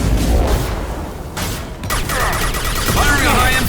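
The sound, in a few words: high-impact gunshot in the video game Mass Effect 2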